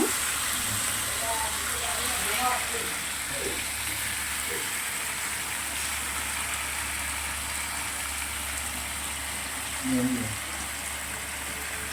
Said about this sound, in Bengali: মাংসটাকে ভালো করে কষিয়ে নেব, কষিয়ে নিয়ে তারপর রান্না।